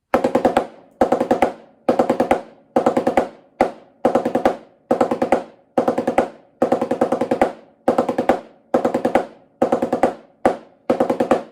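Snare drum practice pattern mixing two sixteenths and an eighth note across measures. Crisp, close strokes sound alone in a steady, even rhythm, grouped into quick repeated figures with short pauses between them.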